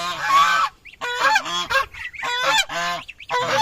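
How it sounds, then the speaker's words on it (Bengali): A swan, a raja hans kept on a small farm alongside pigeons, gives loud, close, nasal honks in a run of several calls with short gaps between them. "এর ভিতরে আমার রাজা হাঁস"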